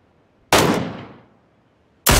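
Two loud, close gunshots from the video game Battlegrounds crack out about one and a half seconds apart, the first trailing off in a long echoing decay.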